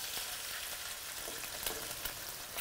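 Chicken pieces fry in hot olive oil, a steady, hissing sizzle with faint crackles, brief and fairly quiet, with no voices.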